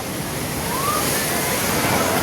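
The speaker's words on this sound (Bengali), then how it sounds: "প্রবল জলোচ্ছ্বাস গাড়োয়াল টপকানো জলোচ্ছ্বাস" Rough, stormy sea waves surge onto a beach in heavy weather, a loud, continuous roar and wash of surf with no break.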